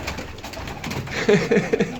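Pigeons in a coop of quality game birds coo in a short rhythmic series of soft, low calls late in the clip, close by over a steady background hum.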